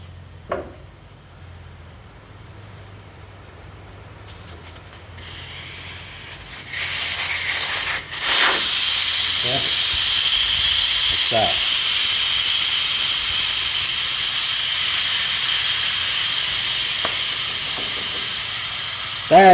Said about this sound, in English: That is going to let all the air out of the tires.